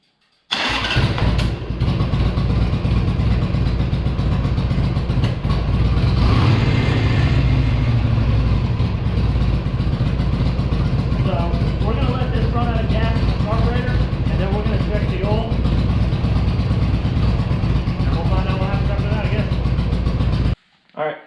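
A Harley-Davidson Sportster 883 engine idles steadily and close up with a throaty, even rumble, someone talking over it, until the engine cuts off abruptly near the end.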